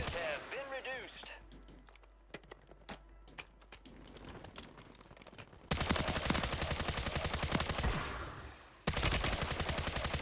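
Gunfire in the video game Warzone: scattered single shots at first, then sustained rapid automatic bursts that hammer on loudly and close, pausing briefly before resuming.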